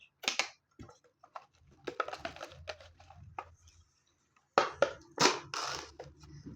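A crisp snack packet is torn and opened up close, with sharp crinkling and crackling bursts separated by brief pauses, the loudest rustles coming near the end.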